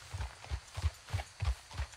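Horses' hooves clip-clop at a steady walking rhythm in Red Dead Redemption 2, several soft thuds per second, fairly close with nothing else heard.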